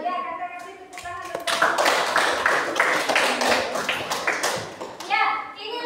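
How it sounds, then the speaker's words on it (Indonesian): Children in an Indonesian science classroom break into applause for a student group, a dense burst of clapping lasting several seconds, with a teacher's voice speaking before and after it. "kasih tepuk tangan"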